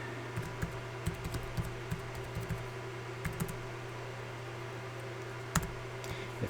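Keys on a Lenovo P53 laptop keyboard tapped in short irregular bursts while a password is entered, quiet clicks set against a steady low electrical hum.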